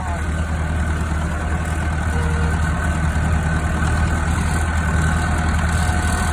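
A tractor used for land levelling idles close by, its engine giving a loud, steady, unbroken low drone with a constant hum that never changes pace.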